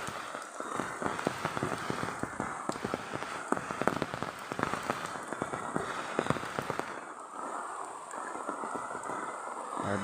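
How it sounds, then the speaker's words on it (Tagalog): Heavy rain over a rice field: dense, rapid patter of drops striking surfaces, steady and fairly close for the whole stretch, with no talking. "Pag malakas ang ulan talaga dito, yun ang pangyayari."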